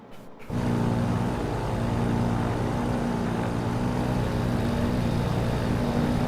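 A propeller airplane's engine drones steadily in cruise, a constant low hum with a tonal buzz that starts after a brief pause at the beginning and holds level throughout, no voices over it.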